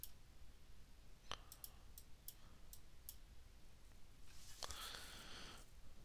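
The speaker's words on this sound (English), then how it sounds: "So I'm right clicking on the test file." A computer mouse is right-clicked while running a JUnit 5 test in Apache NetBeans, giving a few faint, sharp, sparse clicks over quiet room hiss.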